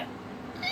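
A cat lets out a short, loud, squeaky meow that rises sharply at the end, close by and alone.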